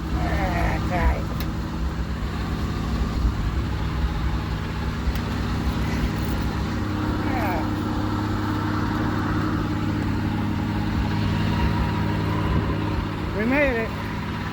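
1966 Ford F500 bucket truck engine idling roughly with a suspected carburetor issue, a steady close low rumble throughout while people talk over it.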